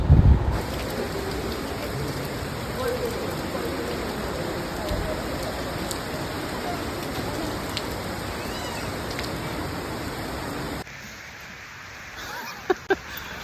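Steady heavy rain pours down in a forest, a dense hiss that continues for several seconds before dropping off, with a couple of soft knocks near the end.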